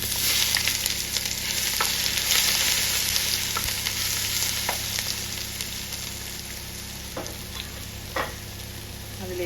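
Crushed ginger and garlic frying with popped mustard seeds in hot oil for Kerala-style prawn curry, a steady loud sizzle with occasional sharp crackles and pops, no talking.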